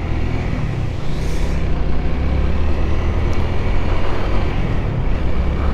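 A Honda Rebel 250 motorcycle rolls away as the clutch engages, its low steady engine rumble and road noise continuous and close throughout, with wind buffeting over it and no talk.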